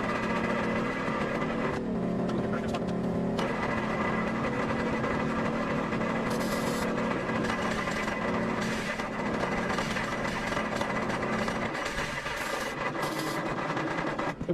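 A 1955 Jeep Willys wagon engine, fed gas straight down the carburetor, churns and sputters on the edge of firing, a continuous loud rough drone with uneven surges, heard alone.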